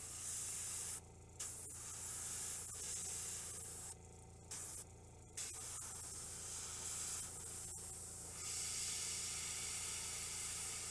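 An airbrush sprays bright green paint onto the muscles of an orc miniature, a close, steady hiss that cuts out in several short gaps as the trigger is released and pressed again.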